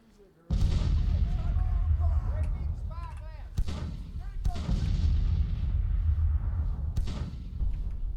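Artillery battalion firing in the Civil War strategy game Grand Tactician: several heavy booms, each followed by a long rumbling roar, with someone talking over the din.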